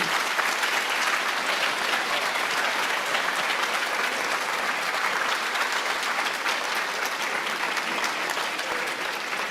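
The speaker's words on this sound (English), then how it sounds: "Let's give all of our speakers a round of applause." A large audience at a ribbon-cutting event claps continuously, a dense, even wash of applause that holds steady throughout without any talking.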